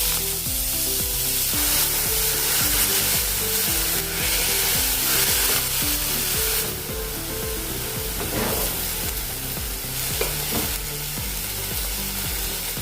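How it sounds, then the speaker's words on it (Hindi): Loud, continuous sizzling of methi (fenugreek) sabzi frying in a pan, with stirring clatter and scraping over the crackle. "अभी अपनी सब्जी डाल देंगे इसमें।"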